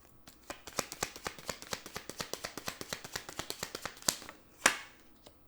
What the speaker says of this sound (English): Wow, these cards do not want to shuffle.